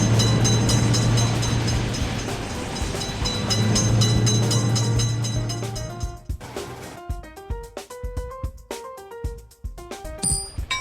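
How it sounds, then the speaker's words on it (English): In a railroad level crossing video game, a train rumbles past loudly, then fades out. Clattering and tonal beeps and dings from the game follow in a choppy rhythm. "Train is in sight. Train is coming."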